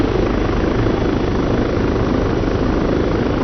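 A helicopter in the ARMA 3 video game flying continuously, its loud, steady rotor thrum and turbine whine filling the whole stretch without a break.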